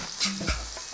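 Burger patty sizzling on a griddle at about 450 degrees just after being flipped, a brief loud hiss with a thud and spatula scrape, close up and without speech.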